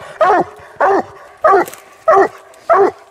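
A hound barks during a coon hunt in West Virginia, five loud, evenly spaced barks close to the listener, with quiet gaps between them.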